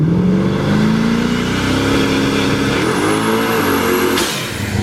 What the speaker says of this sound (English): And that right there is how you back your car into the shop.